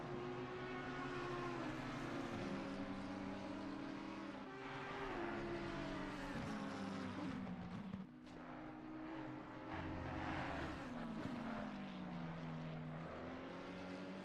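Race cars in an endurance race at Suzuka roar continuously with strong engine tones, pitches sweeping up and down as they shift gears, the sound staying loud and steady throughout.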